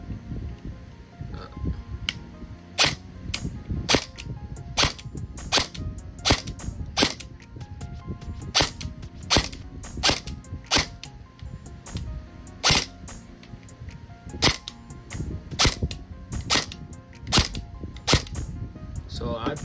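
Rapid series of sharp, snappy airsoft gun shots fired semi-automatically one at a time in an uneven rhythm, close by, with faint handling noise and talk in the background.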